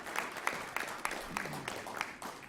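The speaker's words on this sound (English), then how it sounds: "Let's give our Governor a big round of applause for his support." An audience gives the governor a round of applause at a bill signing for medical marijuana, with faint, scattered claps mixed with a low murmur of voices.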